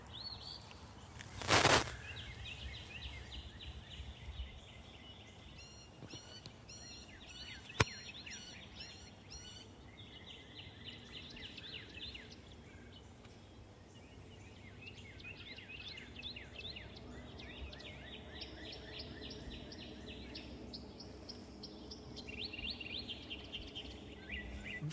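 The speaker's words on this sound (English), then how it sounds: "I know y'all at home can hear the bird activity." Birds call in Alabama woods at dawn beside Logan Martin Lake, with scattered chirps and a rolling gobble-like call over a steady outdoor hiss, plus one sharp knock near the start and a faint click later.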